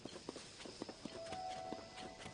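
Horse hooves clip-clop in Zelda: Tears of the Kingdom, a quick uneven run of soft, moderately close hoof thuds over a faint background hum, with no voices.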